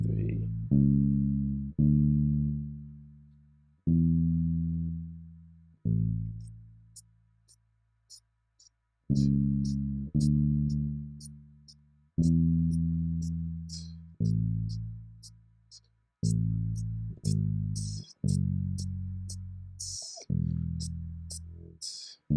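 Bass guitar playing the worship song Above All by Don Moen, plucking clear sustained notes one at a time in a slow melodic line with decaying tails and brief pauses, some light string noise above, no talking.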